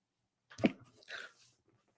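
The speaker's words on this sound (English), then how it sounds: "I'm about to sneeze." A single sharp human sneeze bursts out loud and close, followed by a brief softer exhale, with near silence around it.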